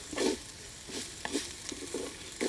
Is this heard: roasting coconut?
yes